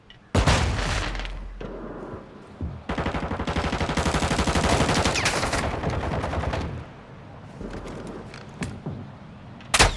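Game combat in Call of Duty Warzone DMZ: a loud frag grenade blast and bursts of rapid gunfire, with a sustained roar of shooting in the middle and sharp bangs near the end.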